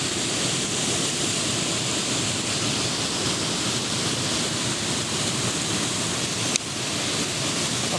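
A waterfall in Serra do Gerês, Portugal, pours with a steady, loud, broadband rush that stays even and continuous throughout, with no voices, only a brief knock near the end.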